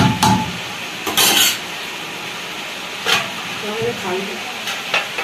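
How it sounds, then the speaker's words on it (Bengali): Dal with lentils, bottle gourd and flat beans is stirred in a cooking pot, with intermittent scraping bursts and a soft hiss, while people talk around it. "এখন এখন করছে নড়াচ্ছে ডালটাকে"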